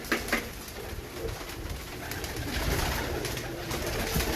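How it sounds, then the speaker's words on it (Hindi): Royal Teddy pigeons gathered on a floor, cooing softly at close range amid flock rustling and a steady background hum, with no one talking. "ये देखो दोस्तों फर्श के ऊपर है सब कबूतर।"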